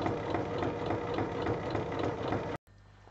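Sewing machine stitching fabric all the way around a simple backpack, a steady mechanical whirring hum for about two and a half seconds, then it stops abruptly and only a faint low hum of room noise remains.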